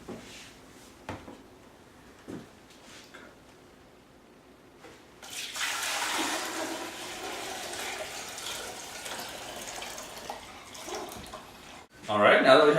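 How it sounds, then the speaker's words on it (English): A grape juice mixture is poured into a pitcher, a steady splashing gush lasting several seconds after quiet handling clicks, ending with a louder clatter. "We're going to go ahead and pour this into our pitcher,"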